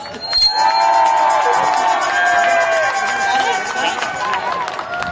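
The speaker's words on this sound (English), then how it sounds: "Give him a big round of applause." A rally crowd cheers and whoops loudly, with shouting voices, whistle-like calls and a little clapping blending into a sustained roar that lasts throughout.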